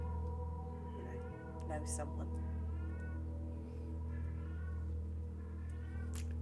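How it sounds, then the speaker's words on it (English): A hungry cat meows several times indoors during a tabletop Dungeons & Dragons session, clear drawn-out meows that rise above a low hum while people talk nearby. "Apologies for the crack cat."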